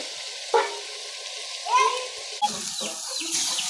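Potatoes sautéing in oil in a pan for a Bogura-style potato dish, a soft sizzle with stirring scrapes and a few clinks, moderately close, with brief voice-like sounds mixed in.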